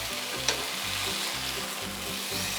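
Steaks sizzle loudly in a hot frying pan, a dense steady crackle with a soft rhythmic pulsing underneath and one brief clink near the start.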